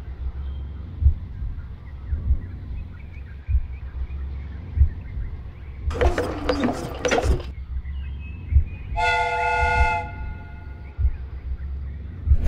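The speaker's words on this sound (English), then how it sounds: "the steam whistle is ready to be used." A replica train steam whistle in a Sherlock Holmes video game blows one short, clear harmonic tone after a burst of hissing steam, both standing out over a low mechanical rumble.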